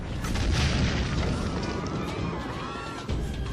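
Deep, rumbling booms roll continuously, like heavy cannon fire at a distance, with a dense low roar and no clear separate shots: Turkish cannon bombarding the walls of Constantinople.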